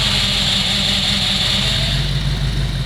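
A replica Lamborghini kit car engine held at a steady, loud, close drone while the clutch is let out in reverse, a continuous dense roar with a low rumble underneath and no distinct rev changes.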